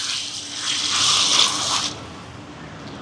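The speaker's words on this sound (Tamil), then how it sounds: "இப்போ பாருங்க தண்ணி எதுவுமே சேர்க்கலை நான் இப்படி வந்து இனி வந்து தண்ணி சேர்க்க போகிறேன்" Water runs from a tap or is poured onto rice for chicken biryani, a loud, steady gushing that fills the first two seconds and then stops, with no voices.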